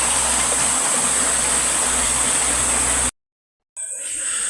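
A village river rushes with a loud, steady broadband roar, is cut off by a short silence, and resumes more faintly.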